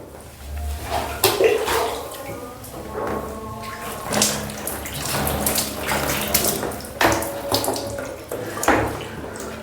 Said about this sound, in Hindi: तो देखिए 3 बार दाएं कंधे पर पानी डाला, 3 बार बाएं कंधे पर।